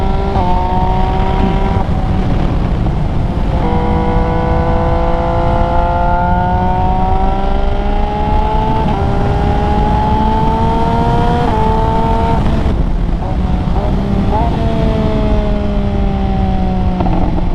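An MV Agusta motorcycle engine revs hard and close, its pitch climbing and dropping through repeated rises with sharp shifts, loud and steady with no talk.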